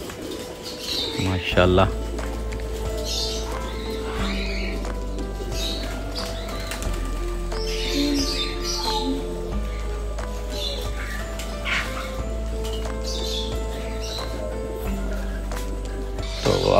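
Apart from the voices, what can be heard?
pigeons cooing and flapping wings at a pigeon farm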